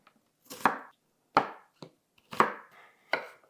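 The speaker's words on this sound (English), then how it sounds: "Now I'm just going to cut my onion." Knife slicing through an onion on a cutting board, four crisp chopping strokes spaced about a second apart, each a sharp attack with a short crunchy tail, close and clear with no talk.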